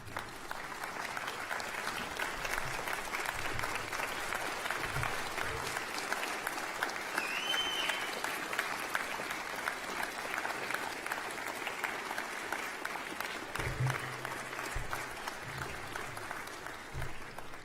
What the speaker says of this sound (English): I'd ask our graduates to stand and lead a round of applause for these people here,